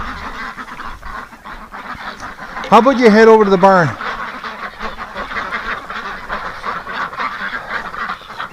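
Ducks, among them Muscovy ducks, on a winter farm let out one loud, close burst of honking quacks lasting about a second, amid ambient noise while a person talks nearby.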